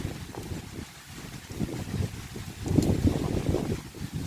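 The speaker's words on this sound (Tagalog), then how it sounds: "Malakas ang hangin" Strong storm wind buffets the microphone outdoors on Guimaras, likely near the sea, rumbling in steady low gusts that swell louder toward the end, with no talk.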